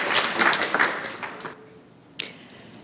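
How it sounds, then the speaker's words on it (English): A round of clapping at a school board meeting swells briefly, then thins out and fades to near quiet, leaving a single late clap near the end. "Let's give it one more round of applause."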